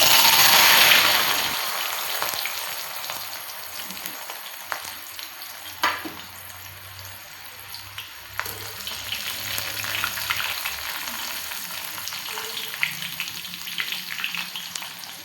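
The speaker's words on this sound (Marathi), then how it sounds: "आता आपल्याला कांदा बारीक गॅसवर कडक तळून घ्यायचा आहे." Chopped onions deep-fry in a pan of oil over a low flame, crackling and sizzling steadily, with occasional sharp clinks and stirring scrapes from a utensil against the pan.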